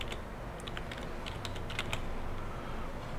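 Fingers typing a short word on a computer keyboard, a quick run of light clicky keystrokes heard close over a low steady room hum, with no talking.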